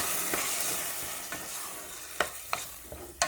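A spoon stirs tomato paste into soup in a pot, scraping steadily against the metal with a few sharp clinks near the end, over a constant low simmer.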